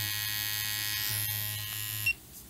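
A Prime x Critical Pen tattoo machine runs with no needles fitted, held close to the mic, giving a steady, fairly quiet electric buzz for about two seconds before it cuts off.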